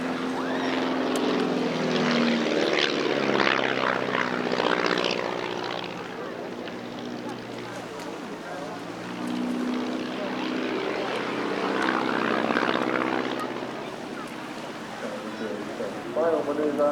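A propeller display aircraft performs barrel rolls at a seaside airshow, its engine droning and swelling as it passes, with a commentator talking over it throughout.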